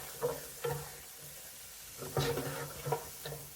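Peppers and mushrooms sizzle in an oiled skillet over medium-high heat, with a steady frying hiss broken by several louder bursts and stirring scrapes, close up and with no talking.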